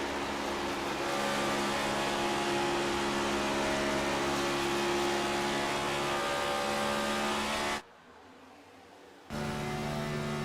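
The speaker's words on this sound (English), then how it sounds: "we're hearing Waylon Turner kind of lift off the throttle here" A Next Gen stock car in a Michigan sim race holds a steady, loud engine drone with strong harmonics, then the throttle lifts and the sound briefly drops out before the engine note returns.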